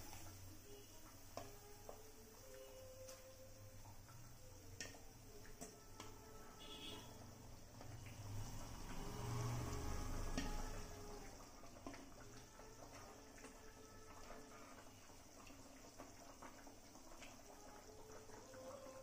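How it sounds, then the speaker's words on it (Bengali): Black pomfret kalia gravy bubbles in a pot, a faint continuous simmering burble with quiet liquid sounds, briefly louder in the middle, no voices. "এবার টকবক করে একটু ফুটবে"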